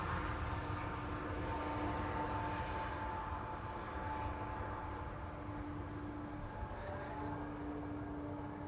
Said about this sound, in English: Reversers being triggered, but not as loud as they can get.